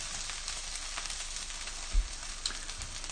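Vegetables browning in a frying pan give a soft, steady sizzle with a faint crackle, quiet and continuous, with a brief low thump near the middle.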